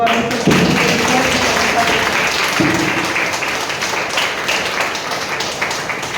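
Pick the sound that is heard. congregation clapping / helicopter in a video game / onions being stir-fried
congregation clapping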